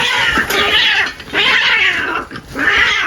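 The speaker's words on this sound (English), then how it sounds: "Two cats in my yard fighting." Two cats fight in a yard, trading loud, drawn-out yowls and caterwauls in three rising and falling bursts close by.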